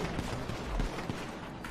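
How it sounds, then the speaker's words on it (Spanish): Gunfire in the video game GTA V roleplay: a short burst of muffled shots rings out at a distance, several quick reports over a noisy background. "¿Escuché disparos?"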